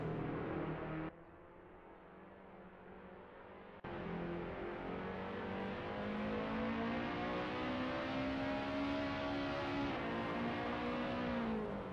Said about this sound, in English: Blairpan is rev lining this Lotus like you cannot believe. Bouncing off the rev limiter, absolutely all out.